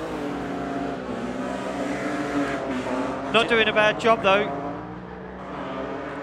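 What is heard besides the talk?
BMW 328 compact race car engine driving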